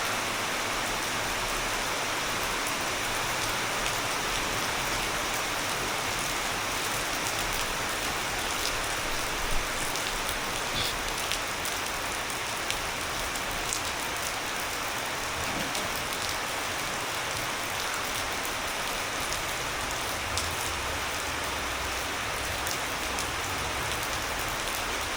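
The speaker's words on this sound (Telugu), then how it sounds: "వర్షం పడుతూ ఉంది." Steady rain falls outdoors, a continuous even hiss of drops on surfaces that stays constant throughout with no voices.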